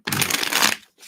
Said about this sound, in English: Let me just shuffle these one more time.